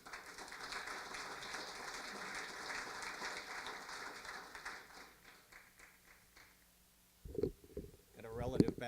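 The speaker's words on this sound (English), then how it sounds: "Got a relative back there applauding a little longer" Audience applause at an award ceremony for a congressman at the Henning Institute, a steady broad clapping wash that fades out around seven seconds, followed by a nearby voice speaking.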